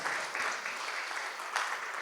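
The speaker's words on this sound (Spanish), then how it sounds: "¿Por qué no das un fuerte aplauso al Señor?" Church congregation applause at a Spanish-language service, a continuous bed of many hands clapping at moderate level, with a brief louder swell near the end and no voices on top.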